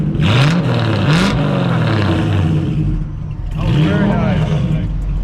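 Loud, close revving from a Terminator Cobra-swapped Fox Body notchback Mustang: two quick throttle blips, a sustained rumble at idle, then another strong rev swell.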